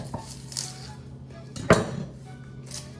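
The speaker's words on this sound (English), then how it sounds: "So what I first do is cut the onion in half." A knife slices an onion in half on a cutting board, a few light knocks and clinks, then one sharp, close chop against the board.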